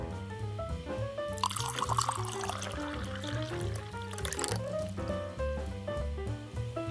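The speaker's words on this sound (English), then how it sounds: "We'll just water this in with the water that it was rooting in" Water pours and trickles for a few seconds onto the soil of a potted kalanchoe cutting, splashing softly, over quiet background music.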